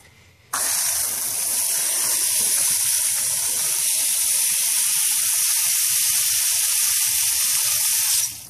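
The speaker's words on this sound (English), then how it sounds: "then we're gonna water it." A dragon fruit plant is watered with a steady, loud, hissing spray of water that runs unbroken for about eight seconds before cutting off.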